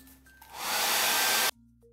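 A hair dryer drying paint on an MDF Christmas ornament hums on, swells into a steady loud whooshing blast for about a second, then cuts off abruptly, close to the listener with no talking.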